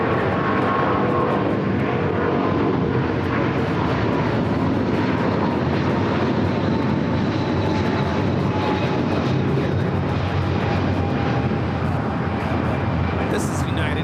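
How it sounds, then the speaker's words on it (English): United Airlines Boeing 777-200 taking off from LAX for Houston, a loud, sustained jet engine roar with wind buffeting that fills the whole stretch while a voice speaks over it. "2086 taking off to Houston Intercontinental on the 777-200."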